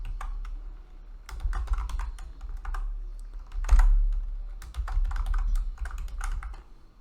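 Password being typed on a computer keyboard in quick irregular bursts of close, crisp key clicks with short pauses and one heavier keystroke.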